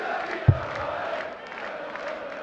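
A darts arena crowd at the 2017 German Darts Open quarter-final, roused by Gerwyn Price, gives a steady broad roar of voices with a brief sharp thump near the start.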